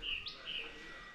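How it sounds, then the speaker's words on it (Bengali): Small birds chirp a few high, quick notes in dense forest near the Madhabkunda waterfall and eco park. The calls are faint and brief, with no voices. "গহীন অরণ্যের মাঝে বিভিন্ন পাখিদের কলরব"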